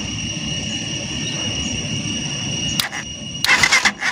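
A motorcycle engine running after an electric starter was newly wired up, a steady low idle with bright whining tones above it, then two short bursts of louder rattling toward the end.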